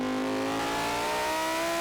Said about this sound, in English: We're going to see what this car sounds like in the tunnel.